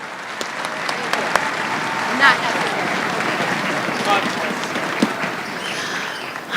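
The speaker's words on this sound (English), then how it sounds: "one big round of applause for Ms. Halko" Audience applause at a school strings concert, a thick, sustained clapping crowd across the whole stretch, with a voice speaking briefly over it.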